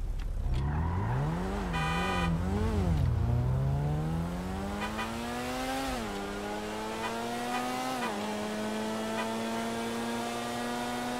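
An Ocelot Penetrator supercar in GTA 5 revs and accelerates through several gear changes at night, with the engine note climbing and dropping. Brief tire squeal, a short horn-like toot, steady and fairly close.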